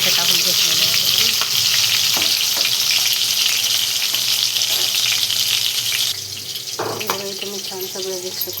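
A tomato frying in a kadhai for pav bhaji sizzles loudly and steadily up close, with occasional scraping stirs and clinks. The sizzle drops somewhat in the final seconds.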